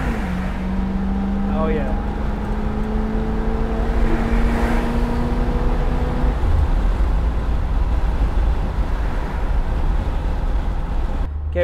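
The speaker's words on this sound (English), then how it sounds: "when the secondary is open on this carburetor, you get a wonderful sound" A Pontiac Trans Am engine accelerates hard as the carburetor secondaries open, a loud steady drone with rising tones inside the car, and someone speaks briefly.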